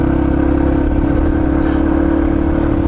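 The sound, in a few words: Yamaha TT-R230 dirt bike engine revving on throttle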